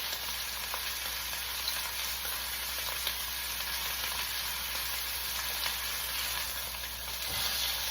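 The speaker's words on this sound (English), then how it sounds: "And you want to hear the sizzle." Dijon pork chops sear in a pan with a steady, close crackling sizzle and faint pops, continuous throughout with no voices.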